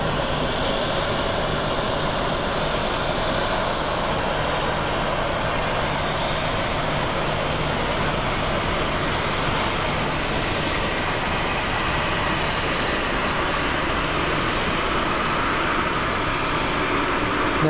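An Embraer jet roars steadily on departure at Sky Harbor Airport, a loud, unbroken engine rush heard outdoors for the whole stretch with no voices.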